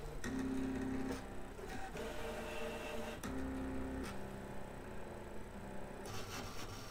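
A ScanNCut cutting machine cuts through material held with tape, giving a steady mechanical whir with motor hums that rise and fall and faint clicks as the carriage moves.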